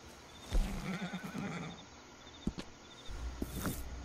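A wild blue roan mare whinnies in a video game, a short nickering call followed by scattered hoof knocks and faint outdoor ambience, with no talk.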